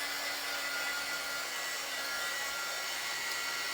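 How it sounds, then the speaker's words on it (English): A hair dryer blowing steadily onto a chalk-painted banner, a constant even whooshing whine with a faint low hum underneath, unbroken for the whole stretch. "And now we're just going to hit this with the dryer."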